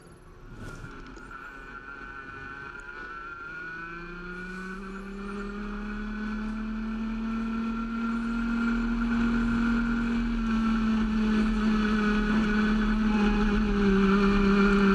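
Onboard a racing kart lapping the 1.25 km Conca World Circuit in a CIK-FIA KF final, the high two-stroke whine climbs steadily in pitch and loudness over a long pull, with gear-like tonal sweeps and no talk.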